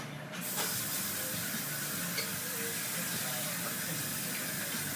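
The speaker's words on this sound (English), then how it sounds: "And our final ingredient is some water." Water pours steadily into a pot of beef short ribs, a loud continuous hissing splash that starts abruptly and runs unbroken throughout.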